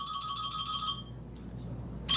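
A mobile phone ringtone chimes loudly for about a second, stops, then starts again near the end, with low background hum between the rings during an interview.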